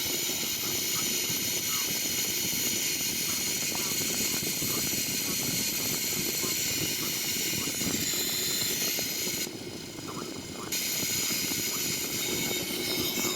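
Simulated Boeing 737NGX right engine spooling up during start in a flight simulator game, a steady loud broadband roar and hiss throughout with a brief dip midway, while a person talks over it.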